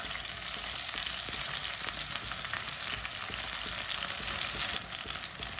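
Finely chopped green onion and garlic frying in a pan, a dense, continuous close sizzle with crackling pops, easing slightly near the end.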